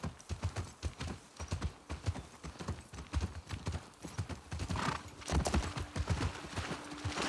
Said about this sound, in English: You have to leave the horses here.